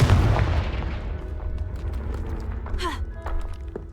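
Confringo spell blast in Hogwarts Legacy, a heavy booming impact at the start that rolls off into a rumbling decay, followed by scattered debris crackles and a brief voice in the background.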